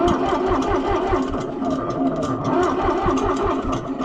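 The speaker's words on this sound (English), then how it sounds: "I hate to cold start you all the time, but that battery's got a lot more guts to it, so it can stand the severe cranking." A car engine cranks on a cold start under a strong battery, the starter churning in a fast rhythmic chug that continues without catching, close and loud throughout.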